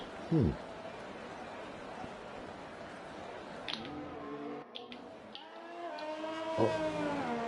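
Formula 1 cars in a racing video game run a lap of the Brazil circuit, their high engine whine climbing steadily in pitch as they accelerate, with a sustained hum from the field.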